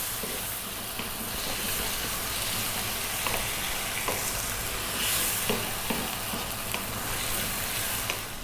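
Canned mackerel frying in a pan with salt, pepper and thyme as it is stirred, giving a dense continuous sizzle with occasional scraping taps, close and steady throughout.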